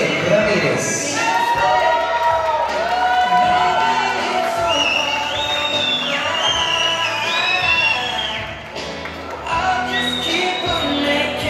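A crowd at a quinceañera family waltz whoops and cheers loudly and continuously, with shouts and excited voices layered throughout.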